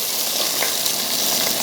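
Small onions browning in a frying pan give a steady, close sizzle of hot fat that holds for under two seconds with no voices.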